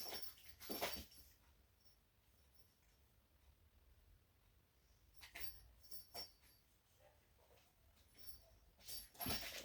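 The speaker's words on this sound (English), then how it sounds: "That's next door's dog barking while I'm trying to do a video." A neighbour's dachshund barks next door in the morning, heard indoors as faint, muffled bursts scattered across a quiet room.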